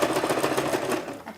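A sewing machine runs steadily along a seam of woven fabric edge with a quarter-inch allowance, its rapid needle chatter close and continuous for a moment before easing slightly at the end.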